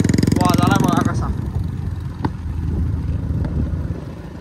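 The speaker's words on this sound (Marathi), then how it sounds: "आणि गाडी सायलेन्सर पण चेंज केलाय." A motorcycle fitted with a changed aftermarket silencer rumbles loudly and steadily up close, with a harsh low exhaust drone throughout and a voice talking over the opening second.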